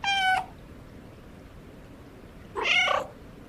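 A cat meows twice in the video game Stray, a short clear harmonic meow at the start and a longer, rougher one about two seconds later, close and alone over quiet background.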